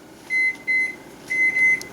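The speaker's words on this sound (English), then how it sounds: "So I'm going to set my timer." A kitchen timer being set while making apple cinnamon donuts gives short, thin electronic beeps in two pairs, clear and close against quiet kitchen background hiss, with no talking.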